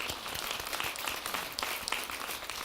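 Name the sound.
audience applause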